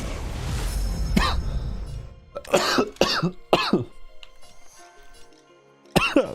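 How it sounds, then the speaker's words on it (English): A person coughing several times in harsh, separate bursts, close and fairly loud, over a dull rumble of game sound that fades out. "Why am I coughing?"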